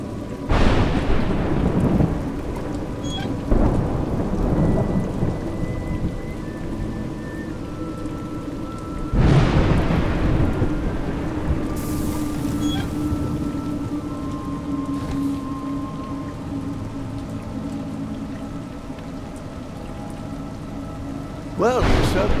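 Rain and thunder in the video game A Juggler's Tale: a steady hiss of falling rain with several deep rolling thunder rumbles, one early, a strong one midway and another at the end, plus faint tonal game ambience.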